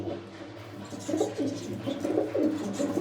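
Pigeons cooing in a loft where large young pigeons are kept, soft repeated low coos rising in several bursts over a steady hum, close and moderately loud.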